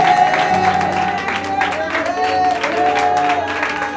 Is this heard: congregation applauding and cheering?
yes